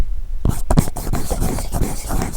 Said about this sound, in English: For sure, you will be able to hear the squeaking.